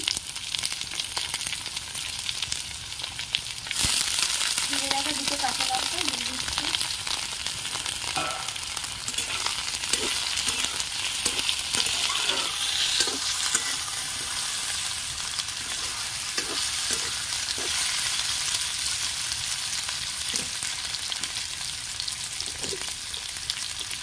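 Eggplant and potato pieces drop into hot oil in a pan, a steady close sizzle with scattered spatters and occasional stirring clicks, no talking.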